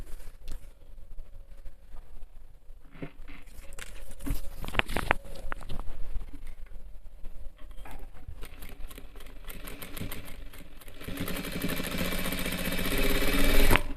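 Sewing machine stitching a Nehru jacket, a rapid mechanical patter with bursts of running stitches, loud and close, speeding up into a dense continuous whir toward the end.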